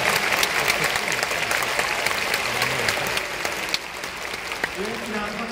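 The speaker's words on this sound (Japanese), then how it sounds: "大きな拍手の中" A stadium full of Hawks baseball fans applauds steadily through a post-game hero interview after a no-hitter. The clapping is dense and sustained throughout, with an announcer's voice carried over the public address above it.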